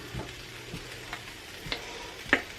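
Food frying in sesame oil in a pan, a soft continuous sizzle broken by a few light clicks and stirring taps, heard alone without talk.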